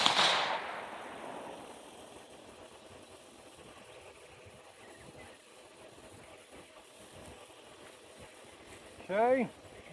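A single rifle shot cracks at the very start during scope testing, loud and sharp, then fades into a quiet outdoor background with a brief squeal near the end.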